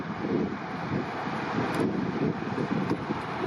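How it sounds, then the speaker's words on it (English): Gusty mountain wind rushes across an Alberta backcountry trail above a river, a loud continuous roar that pummels the microphone with rising and falling surges. "It's quite windy all of a sudden. Wind's picking up."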